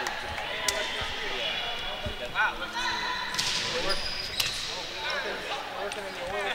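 A volleyball serve struck during a women's college match between UC Santa Cruz and Mills College in a gym, heard as a few sharp hand-on-ball smacks amid crowd murmur and a commentator talking over it.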